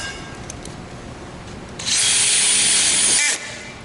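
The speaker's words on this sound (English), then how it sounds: "you'll proceed to attach a screw for each of the spaces on the back end" Power drill driving a screw into a spring hinge, one sustained whirring burst of about a second and a half that rises after a quiet lead-in of faint handling noise and then stops abruptly.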